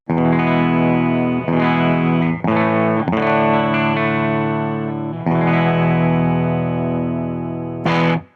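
Clean, dry electric guitar through a Les Paul bridge pickup, with no echo engaged, plays loud sustained chords that change every second or so, ringing alone with a brief bright strum near the end.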